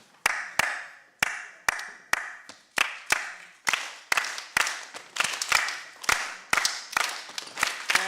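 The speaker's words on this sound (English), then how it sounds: "there's a clave that we can do clapping, and you can help us" An audience claps a Cuban clave rhythm: sharp, separate hand claps in a repeating syncopated pattern of three and two, crisp and resonant in a reverberant hall.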